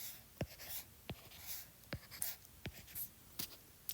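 A marker draws lines during a geometry lesson on lines and angles, giving a series of short, close, scratchy strokes spaced a fraction of a second apart. No one speaks.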